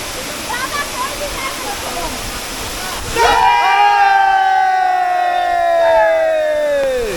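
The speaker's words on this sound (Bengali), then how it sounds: "আমরা চলে এসেছি কিন্তু ঝর্নায় দেখেন ওই যে ঝর্নাটা দ্য মাইটি মুখপছরা" Mupposhora waterfall in Bilaichhari rushes as a steady broadband roar, with loud voices shouting or cheering over the falling water for the second half.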